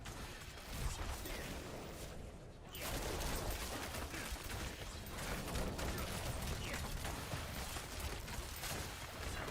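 Rapid bow volleys from the Barrage skill in a rogue action game, a dense continuous crackle of arrow impacts and game effects rattling steadily for several seconds.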